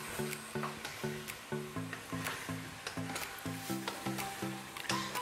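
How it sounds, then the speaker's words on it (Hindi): White chicken biryani ingredients, with garlic paste, are being stirred and mixed in a pot: regular, rhythmic scraping strokes, each with a slight tonal squeak, repeat about twice a second over a low sizzling hiss. "ये देखें अच्छे से मिक्स कर रही हूँ मैं सब।"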